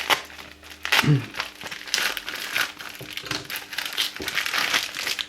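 A parcel package from AliExpress is torn open by hand, with close, continuous plastic crinkling and rustling in uneven bursts, while a person speaks.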